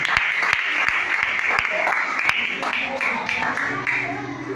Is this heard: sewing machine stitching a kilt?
no